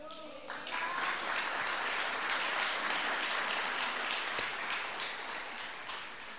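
A congregation at a church service applauds, steady dense clapping rising after a voice trails off at the start and continuing evenly throughout.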